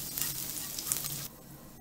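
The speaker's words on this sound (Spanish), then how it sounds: "Aquí le puse un diente de ajo con aceite de olivo. Esto lo vamos a citronar." A garlic clove sizzles in olive oil, a steady close crackle that cuts off abruptly after a little over a second, leaving quiet.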